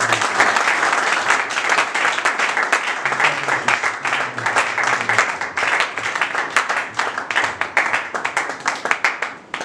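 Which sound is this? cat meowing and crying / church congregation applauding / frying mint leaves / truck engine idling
church congregation applauding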